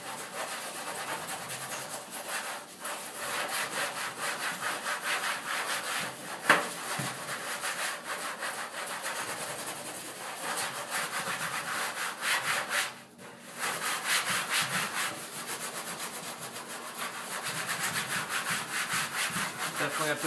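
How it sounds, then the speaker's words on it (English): Norwex spirisponge scrubbed hard over a greasy oven surface, a continuous close rasping rub with rapid back-and-forth strokes, briefly pausing twice. "by just working it over with the spirisponge"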